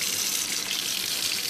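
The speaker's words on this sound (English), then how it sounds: "now I'm gonna pour some cold water so that they don't get sticky" Cold water running from a tap over strained Hakka noodles in a sink, a steady continuous splashing hiss at even loudness throughout.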